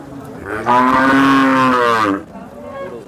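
A cow moos once, a long loud low call held for over a second, close by at an HF cattle market in Sangola, followed by quieter background noise.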